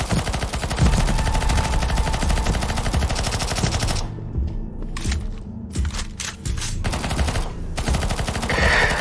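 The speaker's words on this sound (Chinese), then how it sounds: "现在我们侧路的人过来就准备往门里开枪了" Dense rapid automatic gunfire in CS:GO Zombie Escape on the ze_obj_eliminate_b2 map, players shooting at a door; loud continuous bursts with a brief thinner stretch midway, then heavy firing again.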